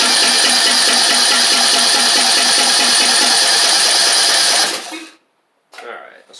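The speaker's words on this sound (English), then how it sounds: "let's see if we can get a little bit of pumping action through the carb to get this thing to run" A Craftsman YT4000 lawn tractor engine cranks hard on the starter, a loud rhythmic chugging that runs for several seconds without catching, then cuts off abruptly and leaves silence followed by a short mechanical sound.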